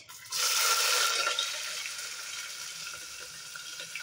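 Onion added with bay leaf and spices into hot oil for a home-style chicken curry, a loud hiss of frying that bursts up at once, then settles into a steady, slightly quieter sizzle with no talking.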